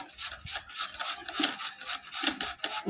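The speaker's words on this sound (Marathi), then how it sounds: "आता काकडी आपण किसून घेतो आहे" Cucumber being grated by hand, a rapid run of close, wet rasping strokes repeating in a steady rhythm without speech.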